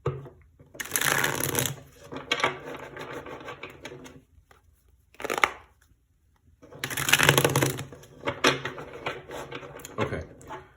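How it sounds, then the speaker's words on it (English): Tarot cards are shuffled by hand in several bursts of dense riffling and patter, close and crisp, separated by short pauses of near silence. "so we're just going to shuffle the cards and see what comes out"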